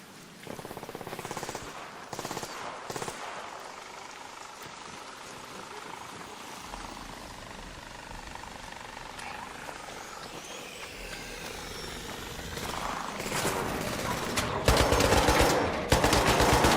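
Gunfire in the video game Arc Raiders, bursts of shots near the start and a dense, louder rapid volley toward the end over a rumbling engine-like background, with a voice at points.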